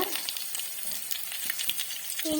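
Onions sautéing in hot oil for a potato mezhukkupuratti give a steady, close sizzle with faint scraping stir sounds. No one speaks.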